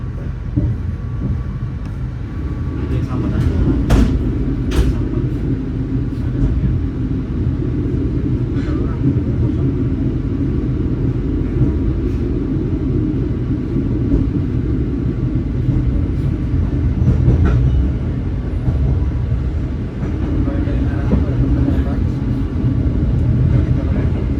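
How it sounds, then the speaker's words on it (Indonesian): The Gaya Baru Malam Selatan economy-class passenger train rumbles steadily on the rails passing Sepanjang station near Surabaya, a continuous loud low roar with occasional clanks, and voices talk faintly over it. "Saat ini kereta api Kaya Baru Malam Selatan berjalan langsung di stasiun Sepanjang"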